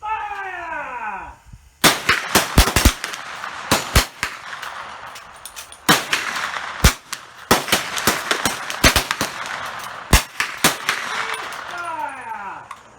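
Sharp cracks from .310 Martini Cadet rifles at a military trainer shoot, many loud shots going off in irregular clusters over several seconds, some close and some farther down the line, with brief voices at the start and end.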